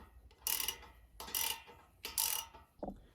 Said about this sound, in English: I'm gonna put on top of this nut here to hold it, while I use a 14 millimeter socket on the bottom of the nut there to tighten this down